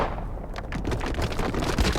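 A loud, dense burst of gunfire that continues across the whole moment, close and harsh, with no voices over it.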